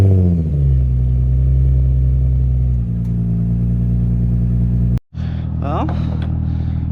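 A Nissan 350Z with a Megan Racing exhaust and the silencer removed idles with a deep, loud rumble, then a brief cutoff before the engine note resumes, with a voice heard near the end.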